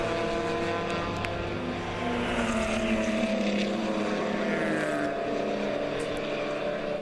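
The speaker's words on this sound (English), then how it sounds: "You hear those engines just ripping and roaring as they come up the hill" Race car engines roar as cars climb the hill during a ChampCar endurance race at Watkins Glen. A continuous loud, layered engine drone with shifting pitches overlaps from several cars, heard from a moderate distance.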